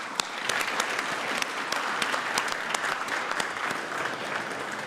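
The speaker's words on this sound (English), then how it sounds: "Let's give them all a round of applause," An audience at a school speech competition night applauds the speakers, a sustained, even roar of many hands clapping with a few sharper claps standing out, no talk over it.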